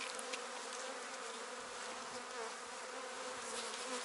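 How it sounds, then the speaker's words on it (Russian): Honey bees buzz in a dense, steady drone while being swept off a hive frame, a close swarm hum with slight shifts in pitch and no voices. "Ну, мы и с молоденькими пчелками сметаем."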